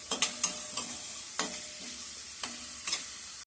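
Onion frying in a pan until reddish for a Marathi mula (radish) bhaji: a soft continuous sizzle broken by several sharp spatula taps and scrapes at irregular intervals, close and fairly quiet.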